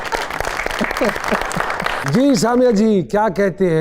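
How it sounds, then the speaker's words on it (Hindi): Applause from a live talk-show audience rises under a speaking voice, then someone talks loudly over the clapping as it continues. "बहुत सारी तालियां जी।"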